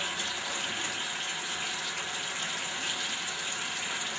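Water runs and splashes into a bathroom sink, a continuous bright rushing hiss that stays steady and close for the whole stretch, with no speech over it.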